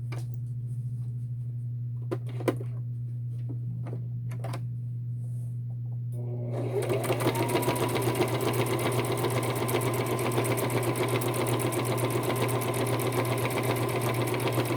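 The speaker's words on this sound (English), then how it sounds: "Do not sew the long edges, sew the tops and the bottoms." Sewing machine stitching the top and bottom edges of fabric for a face mask starts up after a quiet hum with a few clicks, then runs steadily and loudly for the rest of the clip.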